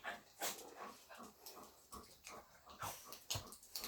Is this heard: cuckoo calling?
no